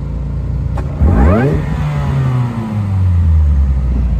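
A Chevy Cobalt SS Turbo engine revs sharply once, rising fast to a loud, close roar before dropping back and settling into a lower drone.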